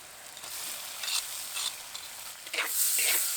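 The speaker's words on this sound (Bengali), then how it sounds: "আলুটাকে কিছুক্ষণ ভালো করে মশলার সাথে নেড়ে নিয়েছি" Boiled potatoes being stirred with fried spices in a pan, giving soft scraping stirs and gentle sizzling that grows a little brighter toward the end, with no voices.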